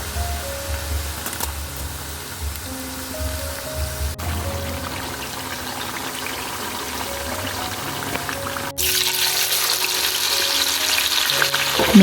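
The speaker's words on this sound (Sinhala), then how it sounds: "මේ විදියට තෙල් හැන්දෙන් කවලම් කර කර අනිවාර්යෙන්ම බැද ගන්න" Onions frying in coconut oil in a pan, stirred with a spoon for a Sri Lankan dry fry dish, giving a steady close sizzle with scraping stirs that grows louder near the end, with no voices.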